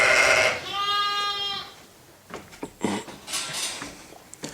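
A sheep bleats loudly with a wavering, harmonic cry, followed by shuffling, rustling and faint knocks inside a barn on a Norwegian sheep farm during lambing season.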